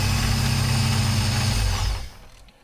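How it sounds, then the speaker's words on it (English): A GM L67 supercharged V6 revs briefly and holds a high, buzzy idle with a ticking valve train clatter, then cuts back and drops away near the end. "Definitely got some valve train noise."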